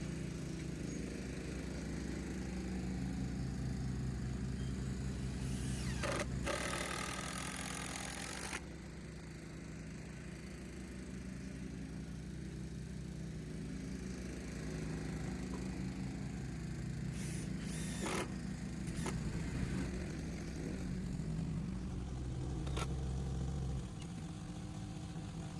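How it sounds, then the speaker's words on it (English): A lawn mower runs nearby in a garden while a raised bed is repaired, its engine a steady, moderately loud drone throughout, with brief bursts of closer clattering and shifts in pitch. "Somebody's mowing while I'm putting this together."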